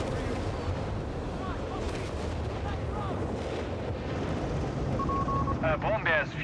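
Nebelwerfer rocket artillery fires in the Company of Heroes 3 strategy game, with a steady rumble of distant battle and booms. Brief rising whistles come near the end, and a commentator talks over it all.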